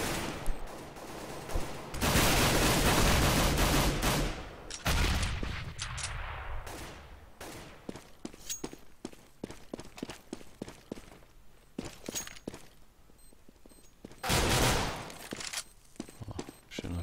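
Bursts of gunfire from a Counter-Strike match on the de_inferno map, with several loud volleys of rapid shots separated by sparser single cracks and footsteps.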